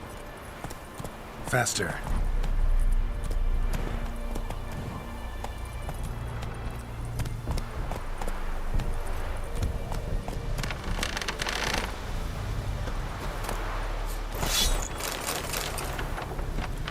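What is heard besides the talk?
horse galloping hooves, video game The Witcher 3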